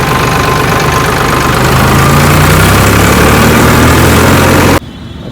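A farm tractor with a broken silencer idles loudly in a steady, deep, vibrating rumble that runs unbroken for several seconds, then cuts off abruptly just before the end.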